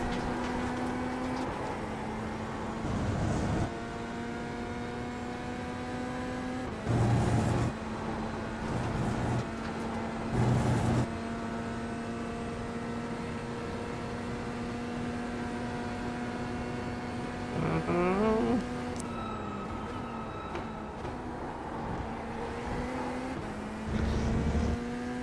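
A GT3 race car engine in a racing video game at Road America drones steadily with shifting pitch, occasionally rising through gear changes and revving, continuous and moderately loud with no talk.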